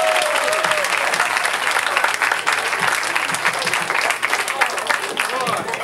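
A comedy club crowd at The Laff House applauds and cheers for comedian Michael Shawn, a loud, dense wash of clapping and whoops sustained without a break throughout.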